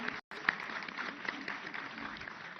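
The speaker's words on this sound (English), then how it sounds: "With a huge round of applause," Applause from an audience at the Himalayan Film Festival in Leh, Ladakh, moderately quiet steady clapping after a brief cutout, sustained through the short span.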